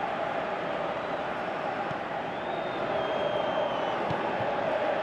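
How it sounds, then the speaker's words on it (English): Stadium crowd in eFootball 23 during a Manchester City match, a steady murmuring roar with faint cheers under continuous commentary. "you can feel and hear how the crowd are reacting to all of this"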